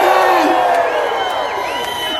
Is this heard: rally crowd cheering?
yes